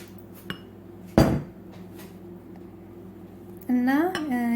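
Zebra cake batter is transferred into another bowl with sharp clinks and knocks of utensils against dishes, one loud clatter standing out, while a voice briefly speaks near the end.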